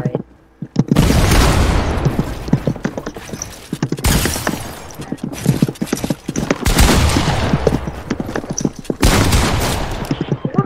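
Rapid gunfire in a Fortnite-style creative box fight shooting game, loud repeated cracks in quick bursts separated by short pauses, close and punchy throughout.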